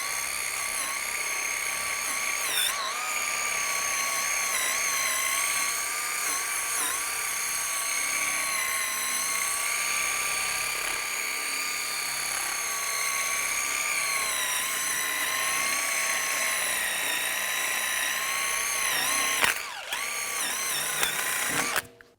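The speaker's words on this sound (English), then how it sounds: "You can use a wire brush or a die grinder." Power tool, a die grinder or wire brush, cleaning the wheel hub of a 2004-2010 BMW X3, a sustained high whine with wavering pitch as it loads against the metal, close and continuous for about twenty seconds before a short break and stop.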